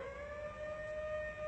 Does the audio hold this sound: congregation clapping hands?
no